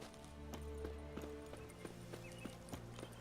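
Horse hooves clip-clop in a steady rhythm over game music in The Witcher 3, moderately close and fairly quiet, with an occasional faint whinny-like tone.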